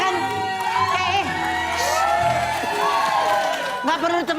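A studio audience on an Indonesian TV variety show cheers and whoops loudly over a dense crowd roar. Shouts rise and fall continuously, with voices talking over the noise.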